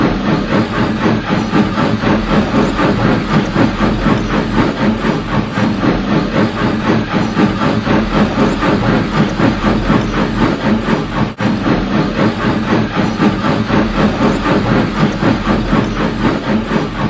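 A train engine runs along the rails with a continuous heavy chugging rumble and rhythmic clatter, loud and steady throughout, with no speech over it.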